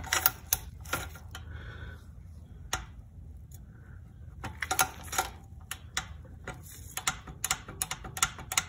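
A small torque wrench set to 11 newton meters ratchets on a 2014 BMW S1000R, clicking in short quick runs of sharp ticks close up, with pauses between strokes.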